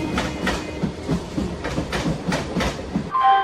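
A train at a railway station platform, heard as a steady rolling rumble with repeated rhythmic wheel clatter pulses throughout, fairly close, ending in a brief high squeal of brakes or wheels.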